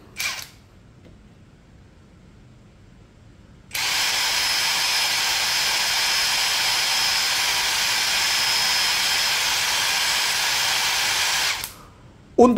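Cordless impact driver switched to high speed, about 3300 RPM: after a quiet start, a loud, steady high-pitched whine runs for about eight seconds, then cuts off abruptly, close up with no talking.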